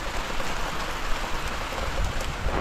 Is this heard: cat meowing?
no